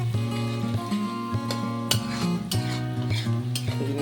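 Mutton being stirred in hot oil in a pan, with metal spoon scrapes and clinks repeating steadily over a loud, constant hum close by.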